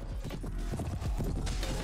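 Horse hooves clip-clop in a medieval fantasy video game, a steady cluster of close, fairly loud hoofbeats with some creaking mixed in, no talking over them.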